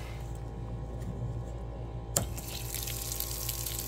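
Rainwater runs from a faucet screwed into a homemade rain barrel with a threaded 3/4-inch outlet. A quiet hum is followed by a sudden rushing stream that keeps flowing steadily at close range.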